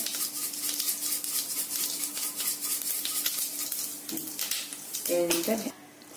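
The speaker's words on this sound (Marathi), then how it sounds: "तेलात छान शिजवून घ्यायचं आलू।" Raw potato cooks in hot oil with a steady bubbling sizzle and spoon stirring, and a voice speaks briefly over it near the end.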